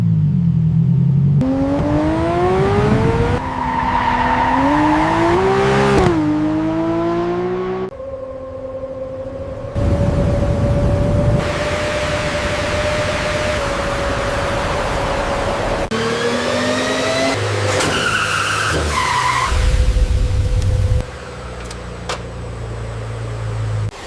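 A sports car on a factory dyno revs hard with its wheels spinning, loud engine notes climbing and falling in repeated sweeping runs, with steady whirring drones between pulls and no talk.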